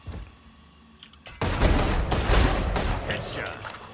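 Video game gunfire bursts in suddenly after a quiet moment, a loud, dense stretch of rapid shots and impacts that stays busy to the end, with a voice speaking faintly underneath.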